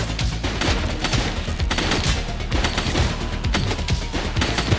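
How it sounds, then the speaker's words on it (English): Dense, sustained gunfire fills a shootout in The Precinct, a police action game: rapid overlapping shots and automatic bursts crackle continuously at close range, loud and unbroken, with no voices. "He's shooting!"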